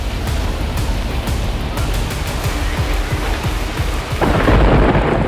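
Heavy thunderstorm over a Karnataka city, with thunder rumbling and cracking through steady pouring rain, the downpour swelling louder near the end; no voices.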